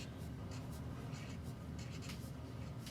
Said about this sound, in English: So I'm gonna write